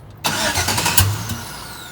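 An LS-swapped 1970 Chevrolet Nova V8 fires up after a brief silence, catching with a loud bark and settling into a rough, throaty idle close by.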